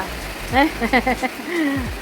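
Steady rain falling, a constant soft hiss in the background while someone talks over it.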